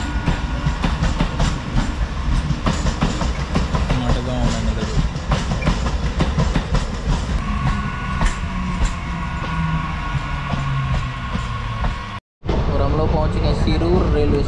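Train 06602 Madgaon Special running on the rails, a continuous rumble with rhythmic clickety-clack from the wagons and passing tonal hums, heard from on board with voices talking faintly over it and a brief dropout near the end.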